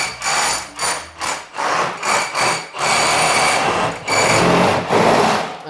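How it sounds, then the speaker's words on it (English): A big power drill boring into a wall of an old cottage during renovation, loud and close, with short whirring bursts at first, then longer sustained grinding runs separated by brief pauses. "get the big drill. Okay, here it goes, everybody. I love noise."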